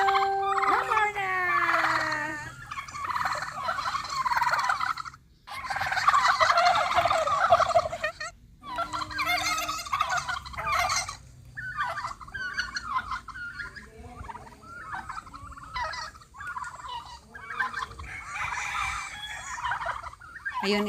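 A flock of chickens gobbling and clucking loudly while squabbling over bread, overlapping calls bursting out continuously as birds jostle together, close by.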